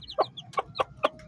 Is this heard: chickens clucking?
yes